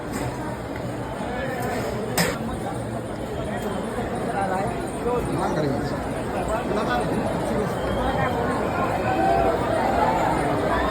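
Huge crowd at Lalbaugcha Raja in Mumbai chattering nonstop, a dense babble of many voices close around, with a few sharper knocks and shouts rising out of the hubbub.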